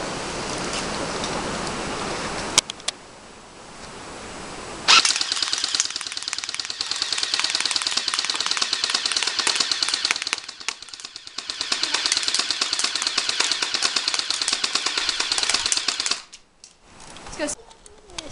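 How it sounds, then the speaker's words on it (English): A DPMS Panther carbine fires on full auto outdoors, loud and near, with a short burst followed after a pause by a long, dense stream of rapid shots that cuts off abruptly. "Now we're going to do a full auto test."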